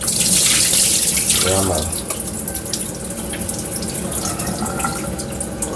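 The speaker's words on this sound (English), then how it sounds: "Wash off the rice" Tap water runs loudly into a sink while rice is rinsed for oxtail with rice and peas, a steady splashing rush that eases after a couple of seconds, with someone talking briefly over it.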